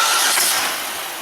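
A car engine, checked for a bad engine mount, catches and runs with a brief rising rush as it fires up, then settles into a steady, slowly fading mid-pitched drone, close and loud.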